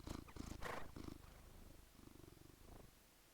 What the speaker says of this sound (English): Do you want to purr on mic?